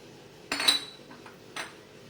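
A frying pan for cooking bonito fish with a little oil in it, set down and handled on a stovetop: two close metallic clanks about a second apart, with faint rattling between them and no talk.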